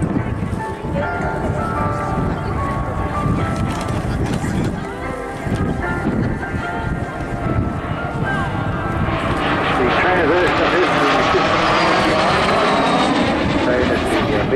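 A MiG-15 jet fighter roars past at the Southport airshow, a loud continuous engine rumble with rising whine and wind buffeting, its pitch sweeping as it passes, with a voice talking over it.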